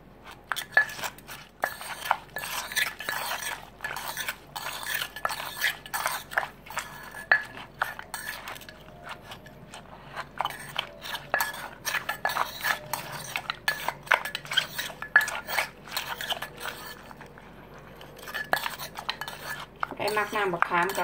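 Gentle pounding and scraping of a squid salad in a mortar, with a steady run of small clacks, taps and rattling knocks from the pestle and utensils, moderately close and fairly quiet, with no talking.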